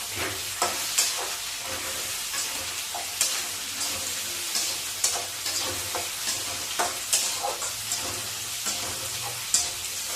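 Onions frying in oil in a pan, a continuous close sizzle with regular scraping stirs and small clattering taps repeating throughout.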